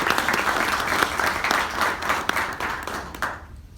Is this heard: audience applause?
yes